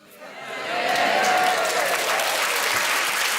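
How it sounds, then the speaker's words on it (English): Studio audience at a British comedy panel show bursts into applause that swells within the first second and stays full and steady to the end. "You'll do anything for applause, won't you?"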